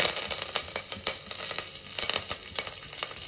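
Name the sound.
curry leaves sizzling in hot oil in a pot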